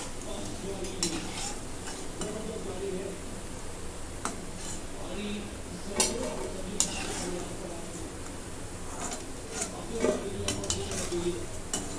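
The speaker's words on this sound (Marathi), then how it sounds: "भजी तळून झालेले आहेत, काढून घेते." Chana dal bhaji frying in hot oil in a home kitchen, a steady sizzle underneath scattered clinks and scrapes of a utensil against the pan, with a few sharper knocks along the way.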